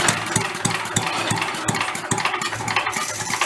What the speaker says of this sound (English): Try backing off the throttle. I'm going to try to go with the idle.